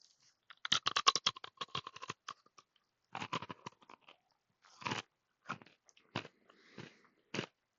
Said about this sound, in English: So when you bite into it, there is a very like crunchy ASMR crunch